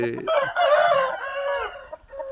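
A native country rooster, a fighting cock, crows once up close, a loud drawn-out harmonic call lasting under two seconds, followed by a few faint clucks.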